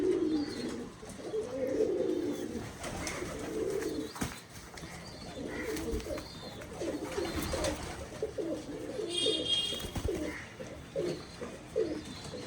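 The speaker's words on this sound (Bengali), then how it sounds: "পায়রাগুলি কিছু ছাড়া আছে দেখুন" Several pigeons coo in soft, repeated bursts close by at a home loft, a steady murmur of throaty calls running throughout with occasional brief chirps.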